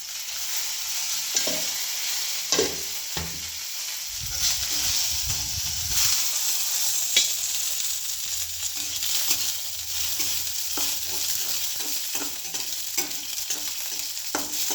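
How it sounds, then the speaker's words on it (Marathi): Dried red chillies fry in hot oil in a pan, giving a soft continuous sizzle broken by scraping and rustling stirring strokes, close and fairly quiet. "चांगला तळून घेणार आहे."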